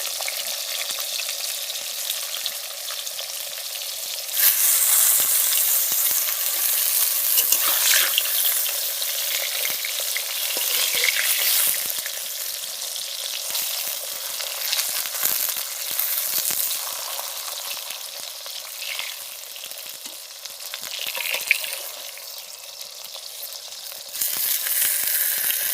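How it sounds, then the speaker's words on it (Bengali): Eggplant slices coated in salt and turmeric fry in a pan, giving a steady loud sizzle throughout, with occasional stirring and small pops, no voices. "এখন বেগুনগুলো ভেজে নিচ্ছি"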